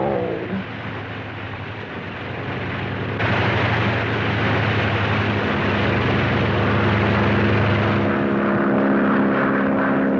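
Propeller airplane engine drones steadily and loudly throughout, with a low rumbling hum that swells noticeably a few seconds in and then holds at a constant roar.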